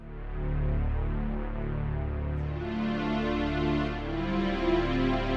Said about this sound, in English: Classic kind of pad sound.